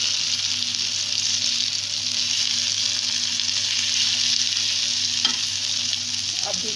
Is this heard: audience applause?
no